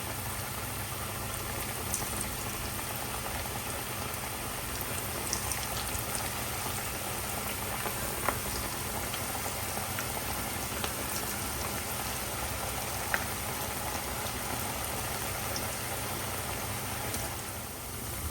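Cabbage pakoras frying in hot oil, a steady dense crackle and bubble like rain that continues throughout with small pops, under a low constant hum.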